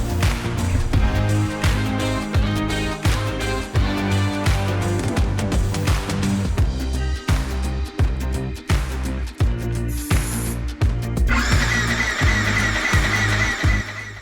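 A wrecked Yamaha YZF R125 motorcycle engine is cranked repeatedly without starting, its starter whirring in rhythmic bursts separated by short pauses, close and loud, with no speech.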